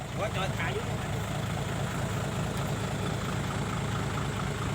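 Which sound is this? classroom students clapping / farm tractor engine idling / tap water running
farm tractor engine idling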